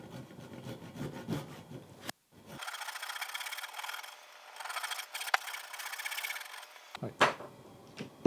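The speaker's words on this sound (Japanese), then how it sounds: "残りはですね、手のこでやっていきます。 はい、ではこれ縦引きで切っていきます。" A Japanese hand saw rip-cuts wood lengthwise while shaping a kanawa tsugi carpentry splice joint, making rhythmic rasping strokes nearby that pause briefly and then run steadily before ending with a few harder scrapes.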